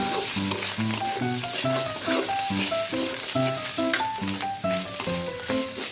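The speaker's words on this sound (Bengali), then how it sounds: "এরপর এটাও ভালোভাবে ফ্রাই করে নিতে হবে। নাড়ানাড়ি করতে করতে এরকম হয়ে যাবে।" Food sizzling as it fries in a pan while being stirred steadily, with rhythmic scraping strokes repeating over the hiss, close and loud throughout.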